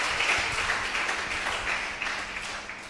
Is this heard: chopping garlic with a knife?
no